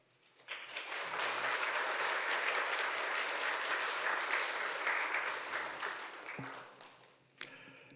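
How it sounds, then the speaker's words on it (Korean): A congregation at a Korean church's autumn revival meeting claps warmly to welcome the pastor back to the pulpit. The dense, steady applause swells quickly, holds for about six seconds and then thins out, ending with a single sharp clap. "우리 큰 박수로 환영해 주시면 감사하겠습니다"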